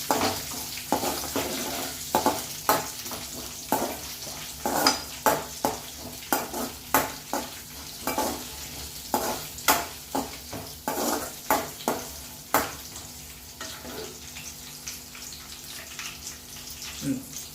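Puffed rice namkeen with peanuts and chana dal being stirred in a pan, a close, loud series of rhythmic rustling scrapes repeating roughly every second over a faint frying hiss.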